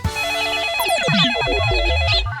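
A cartoon telephone rings with a bright, warbling electronic ring that repeats in quick bursts, loud and close, with no talking over it.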